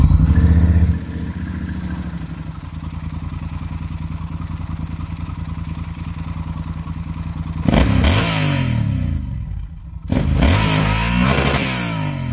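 A 2016 Yamaha Super Tenere motorcycle engine idles with a loud, even rumble, then revs sharply twice near the end, each burst rising and falling, recorded close with no talking.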